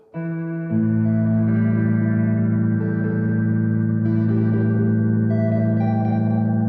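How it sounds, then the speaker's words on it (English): An electric guitar is played through a reverb pedal, a sustained chord ringing out after a short opening note and washing into a long, smooth tail. "I'm going to take the delay off, and let's listen to this with reverb."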